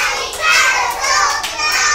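Children in a preschool clapping game clap their hands over two seconds, a busy high patter of claps close by with bright children's voices mixed in.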